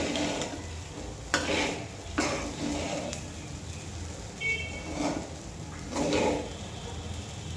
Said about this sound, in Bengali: চালটা প্রায় ভাজা হয়ে গেছে